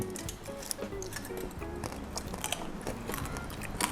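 Crispy fried pork tail being bitten and chewed close up, with steady crunchy chewing and small crackles running throughout, under faint background music.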